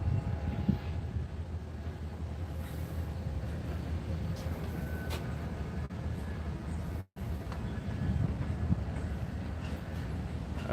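A Union Pacific freight train moves slowly eastbound through a large switching yard in North Platte, Nebraska. It makes a faint, steady low rumble with scattered clanks and one brief dropout.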